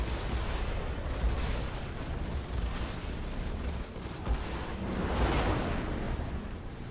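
Spaceship weapons firing continuously in the Star Citizen video game, a dense, steady barrage of rapid shots blending into a constant roar at moderate level with no pauses.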